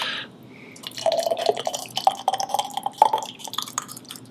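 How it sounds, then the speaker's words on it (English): Liquid pours into a jar and spills over, giving a run of splashy drips and glassy trickling taps at close range, with irregular little bursts throughout. "let's see if we can pour without making a mess"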